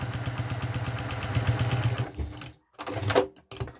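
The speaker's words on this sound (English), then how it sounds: "So you just stitch across again, as we've done at the sides" Sewing machine running a line of stitches across quilt binding, a rapid rhythmic clatter of the needle for about two seconds, then a pause and a shorter burst of stitching with some handling noise.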